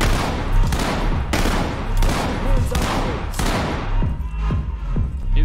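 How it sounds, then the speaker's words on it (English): Rapid bursts of close, loud gunfire in Ready or Not hammer into a wall, coming in repeated volleys about a second apart before tapering into scattered single shots. "He's really shooting that wall."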